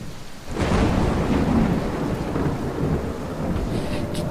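Steady heavy rain pours down with a deep, rolling rumble of thunder, loud and enveloping, rising suddenly and sustaining throughout as an eerie horror-story backdrop.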